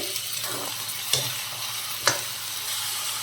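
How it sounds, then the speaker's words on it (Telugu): Bottle gourd pieces tossed into a pan with ginger-garlic paste give a continuous close sizzle, broken by two sharp spatula scrapes against the pan, with no voices. "సొరకాయ ముక్కలు వేసేసుకుందాం"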